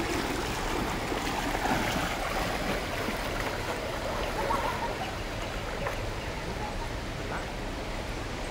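River current of Sungai Buluh rushing around a swimmer in Tangkahan, Sumatra, a steady broadband water wash filling the whole clip with splashing close by.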